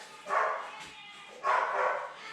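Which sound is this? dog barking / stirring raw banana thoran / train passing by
dog barking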